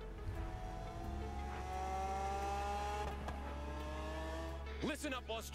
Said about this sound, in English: Definitely one of my favorite Camaros right there.